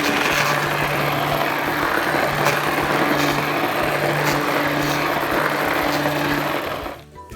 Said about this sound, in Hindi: देखिए मैं दाल को थोड़ा सा इसको ग्राइंड करने लगा हूँ